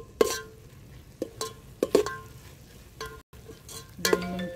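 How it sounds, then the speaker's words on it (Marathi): Mutton keema being stirred as it fries in a pan, village style: a soft steady sizzle with sharp spoon scrapes and clacks against the metal at irregular intervals, close and fairly quiet. "2 मिनिटं परतून चांगलं हलवून घ्यायचं।"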